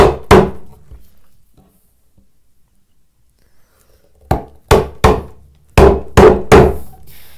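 A chisel is struck into wood while a butterfly bowtie inlay is cut by hand: two sharp knocks, a quiet pause, then six crisp, close, evenly spaced blows.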